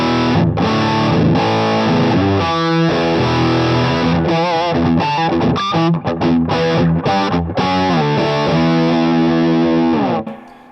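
Electric guitar on a humbucker pickup driven through a Fat Foot Thallium 81 distortion pedal, loud and saturated, mixing sustained chords with quick riffing and bends before ringing out and fading.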